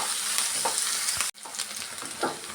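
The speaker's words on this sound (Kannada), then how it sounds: "ನೋಡಿ ಇಷ್ಟು ಫ್ರೈ ಆದರೆ ಸಾಕು." Spices and herbs such as coriander and curry leaves frying in oil for avarekalu bassaru (field bean curry), a steady close sizzle with a brief break midway and occasional stirring scrapes, no talking.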